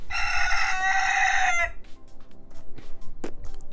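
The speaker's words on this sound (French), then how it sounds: "Et le coq est content." A rooster crows once loudly and close in a backyard chicken coop, a long bright call that cuts off, followed by quieter scattered clucks and rustling.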